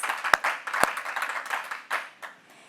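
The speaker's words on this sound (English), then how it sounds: "a big virtual round of applause" A few people clap during an online breast cancer fundraising honor roll event, sparse and scattered at first with two sharp close claps, then fading out.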